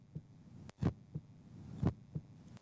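Heartbeat sound effect in a news report, paired lub-dub thumps repeating about once per second, low and soft, with a faint hum underneath and no talk.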